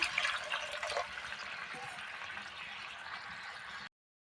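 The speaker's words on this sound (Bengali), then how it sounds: "এবার জল দিয়ে দিচ্ছি" Water being poured into a cooking pot of browned curry: a steady soft trickling and splashing stream lasting several seconds, fairly faint and close, with no talking, then stopping abruptly.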